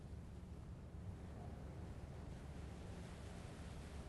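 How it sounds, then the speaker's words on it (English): Ocean waves roll in within the video game Space Engineers, a soft, continuous wash of surf with a steady hiss and low rumble, quiet and without speech. "just enjoying the waves coming in, listening to the sound of the waves"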